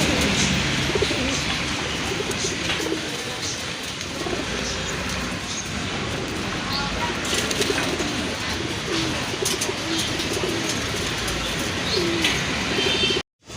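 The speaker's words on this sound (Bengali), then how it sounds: "অনেক সুন্দর এক জোড়া কবুতর।" Pigeons in a pair for sale, among several breeds, coo softly amid steady bird chatter and background noise, with repeated low calls running through until an abrupt stop at the end.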